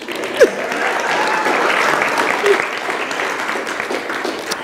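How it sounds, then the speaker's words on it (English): Audience applause at a church book cover reveal, a steady dense wash of clapping sustained throughout at close range, with no talk over it. "You can clap. It's okay."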